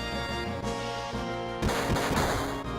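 The AB-Cannon weapon attack in the Final Fantasy VII video game, heard as loud booming shots and a crashing blast over a sustained musical drone, with no speech.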